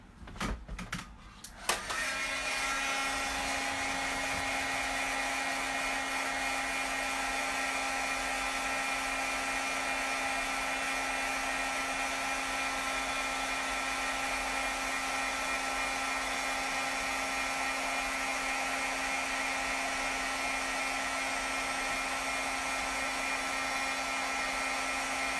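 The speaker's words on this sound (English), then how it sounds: "I'm going to put some clear embossing powder on that. And let me heat that real quick." A heat tool melts clear embossing powder on a butterfly card, giving a steady, loud blowing whir with a high-pitched whine that holds unbroken after a brief start.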